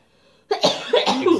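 A person gives a few loud, close, harsh coughs in quick succession after a moment of near silence.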